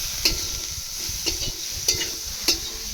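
Boiled potato peels stirred and frying in a pan, with a steady sizzle and a few sharp scraping stirs at regular intervals, close up, no talk.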